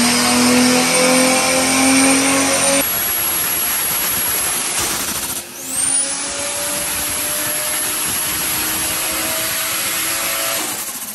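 A Toyota Supra MK3 with a 2JZ engine revs on a dyno, a loud sustained roar with a high whine, dropping briefly midway before rising and holding again, with no talking.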